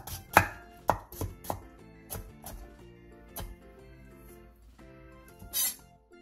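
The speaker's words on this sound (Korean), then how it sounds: "대파 조금을 길게 반으로 가른 뒤 쫑쫑 썰어주세요. 당근 조금도 얇게 채 썰어주세요." A knife chops green onion and cuts carrot into thin strips on a cutting board, giving a series of crisp, close taps, quick at first and then more spaced, with soft background music.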